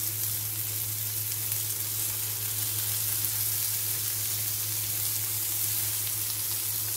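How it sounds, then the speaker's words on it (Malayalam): Prawns fry on a hot tawa over ginger and garlic, giving a steady, close sizzle that holds at an even level throughout with no talking. "സോ ഇനി നമ്മൾ ഒന്ന് തിരിച്ചു മറിച്ചു വിട്ട് ഫ്രൈ ചെയ്തെടുക്കും"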